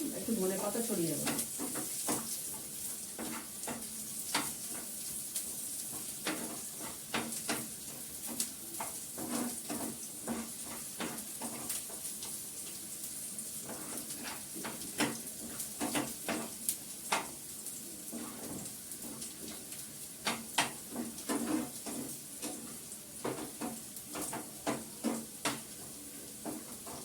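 Thinly sliced onions frying in a pan for a Bengali fish curry, a steady close sizzle with frequent sharp clicks and scrapes from stirring, while someone talks over the cooking.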